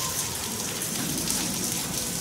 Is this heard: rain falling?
yes